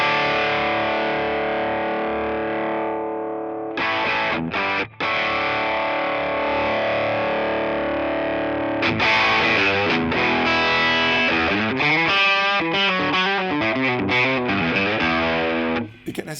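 Electric guitar played through a Feed Me Seymour Blue amp capture in ToneX, with a mid-heavy distorted tone: sustained chords, then a brief pause, then busier riffing with wavering modulation, loud and steady with no talking.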